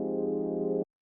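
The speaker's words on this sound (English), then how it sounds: "the first one is this chorus," A synth saw-wave pad through a subtle chorus effect holds a single smooth, sustained tone with a gentle shimmer, then stops abruptly, with no voices.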